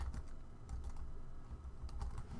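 Typing on a computer keyboard while filling in an ad title, a quick run of close, crisp key clicks in uneven bursts with no talking.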